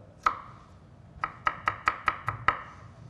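A knife chops a clove of garlic on a board, one sharp chop followed by a pause and then six quick, evenly spaced chops, close and crisp in a quiet kitchen.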